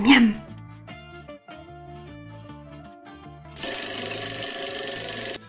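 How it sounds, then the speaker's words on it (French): An alarm clock bursts into loud, sustained bright ringing partway through, after a short melodic tune with a few sung or spoken notes at the start. "Le réveil sonne."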